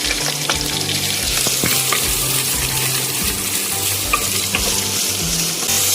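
Sliced onion hits a hot pan already holding garlic and green chili, loud continuous sizzling and frying with stirring scrapes and occasional clinks, close up and without talk.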